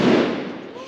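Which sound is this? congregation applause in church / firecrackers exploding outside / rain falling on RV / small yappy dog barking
firecrackers exploding outside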